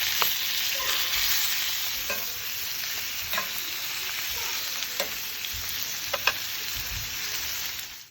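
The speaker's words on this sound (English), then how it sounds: "We are going to sear it. On all sides to finish it off." Pork tenderloin searing in piping hot butter in a pan gives a steady, close sizzle with scattered small pops and spits throughout, and no one speaks.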